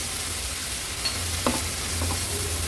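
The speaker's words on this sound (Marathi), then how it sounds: "शिवल्यांचे गोळे देखील ह्या मसाल्यामध्ये छान आपल्याला परतून घ्यायचे आहेत" Clam meat sautés in a masala for an Agri-Koli style seafood dish, giving a steady low sizzle with a few soft stirring scrapes, close and moderately loud, no voices.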